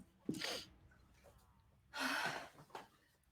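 Two sneezes a couple of seconds apart, each with a sharp intake of breath before the burst, fairly close and moderately loud.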